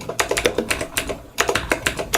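Quick, uneven keystrokes on an old computer keyboard while coding a JavaScript HTML game, clicking close and distinct in short bursts with a brief pause in the middle.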